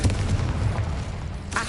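Confringo spell explosion in the Hogwarts Legacy video game: a short booming burst that fades into a rumble, then a second sharp pop at the end.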